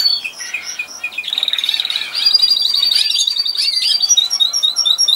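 Laying hens chirp and peep in quick repeated bursts, several overlapping calls close by, growing busier partway through.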